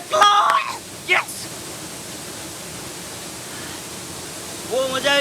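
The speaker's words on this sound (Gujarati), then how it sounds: "વ્યારા નજીક આ ધોધ છે બાલખેત" Bhalkhet waterfall near Vyara gives a constant broadband rush of falling water. Brief voices come at the start and end of the clip.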